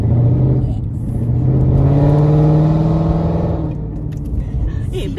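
A Ford Mustang 5.0 in sport plus mode accelerates hard, its V8 engine note climbing in a loud rising roar from inside the car before easing off.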